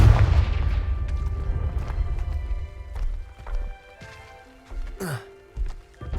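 A Confringo spell explodes with a heavy, booming blast at the start that rumbles and decays over a few seconds in a Harry Potter open-world video game, followed by scattered thuds, footstep-like clatter and a short rising magical whoosh.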